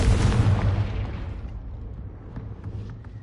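A Confringo explosive spell from the Hogwarts Legacy video game bursts with a loud, booming blast that rumbles and then fades away over a few seconds.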